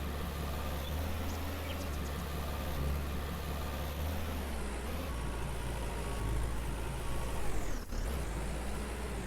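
Tractor engine hauling a plow across a field in the farming game Farmer's Dynasty, a constant low droning rumble that swells slightly near the end, with a brief hiss-like dip, no talking.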